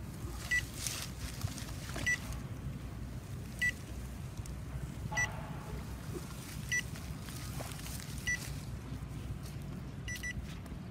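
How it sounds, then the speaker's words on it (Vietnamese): Remote control for a Feilun FT016 RC speedboat emitting short high beeps at a steady interval of roughly a second and a half, repeating over a constant low boat motor and outdoor wind rumble, with no talking. "Đây remote nó kêu bíp bíp."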